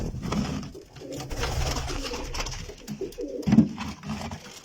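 Pigeons coo softly in low, repeated rolling calls, several overlapping at close range with a slightly louder coo near the end.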